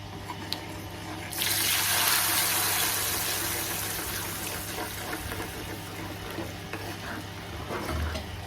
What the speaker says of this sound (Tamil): அரைச்ச மாவை கொஞ்சம் தண்ணி ஊற்றி கரைச்சி வச்சுருக்கு இப்போ இதை ஆட் பண்ணிக்கலாம்